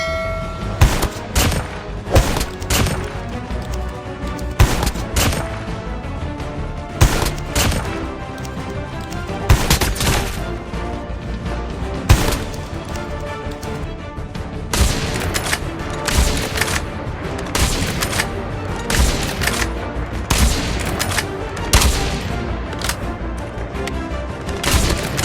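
Sniper rifle shots at practice targets in CoD Mobile, sharp loud cracks fired one at a time at irregular intervals, with short bursts of quicker shots between them over a constant game background.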